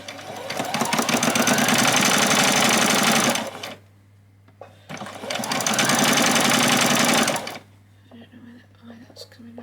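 A sewing machine stitches down both side seams of a doll's spring dress in two loud, steady bursts of several seconds each, with a short quiet pause between them.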